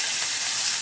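Curry leaves sizzling in hot oil while making poha: a steady, close, hissing fry crackle that fills the short clip evenly with no gaps.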